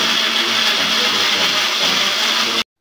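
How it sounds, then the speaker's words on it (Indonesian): An old kitchen blender runs at full speed while preparing tuna pindang balado, a loud, steady, close whirring drone that cuts off abruptly near the end. "aku mau blender dulu ya"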